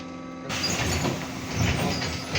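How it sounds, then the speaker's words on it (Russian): The doors of a BKM-321 trolleybus in Minsk close with a sudden pneumatic hiss and sliding rush over the steady hum of the vehicle's interior. "Осторожно, двери зачиняются."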